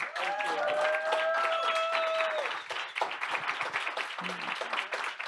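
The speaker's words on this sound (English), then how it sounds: "let's give it another round of applause." Applause closing an online class on apartheid resistance and international solidarity, a dense wash of clapping that runs steadily through the whole stretch, with a brief tonal voice-like sound near the start.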